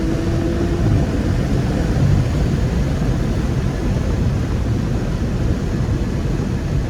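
A BMW 335i F30 with N55 engine and MHD Stage 2 tune cruising, a steady loud low cabin drone of engine and road noise with no distinct revs or pops.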